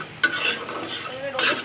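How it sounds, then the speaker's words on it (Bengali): Sun-dried jackfruit seeds are dry-roasted in a pan, rattling and scraping under a stirring spoon in two short bursts over a faint steady hiss. "তারপর আমি কাঁঠালের বিচি টালতেছি।"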